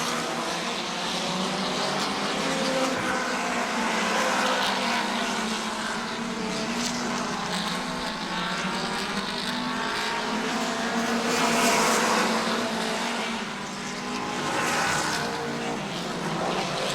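Race cars circling the Auburndale weekly racing track, a continuous engine roar that swells and fades as cars pass, heard from a distance and without a break.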